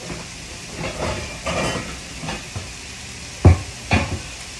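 Vegetables frying in a covered pan, a steady soft sizzle with faint hiss, interrupted by a few clattering knocks and stirring sounds near the end; no talk.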